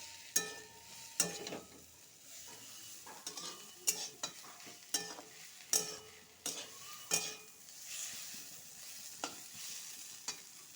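Bitter gourd fries in a pan with ginger and garlic paste while a spatula stirs it, giving sharp metallic scrapes and clinks at an uneven rhythm over a light, steady sizzle.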